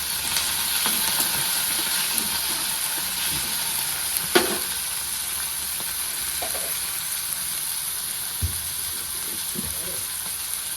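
Chopped tomatoes and curry leaves added to hot oil with browned onion sizzle and fry steadily in a pan for a sprouted matki bhaji, with a few stirring clinks and scrapes over the continuous hiss.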